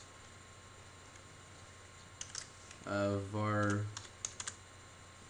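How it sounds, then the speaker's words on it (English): Computer keyboard keys tapped while typing game code in Unity, two short bursts of crisp clicks bracketing a brief spoken word over a steady low hum. "Then we need to actually type the stuff we want."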